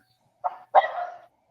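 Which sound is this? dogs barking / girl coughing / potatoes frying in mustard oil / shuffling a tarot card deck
dogs barking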